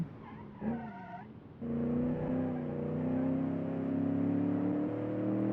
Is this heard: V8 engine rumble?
yes